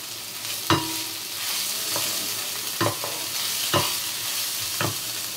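Chicken sizzles steadily in a pan as turmeric goes in, with several distinct scraping stirs of a spatula breaking through the constant frying hiss.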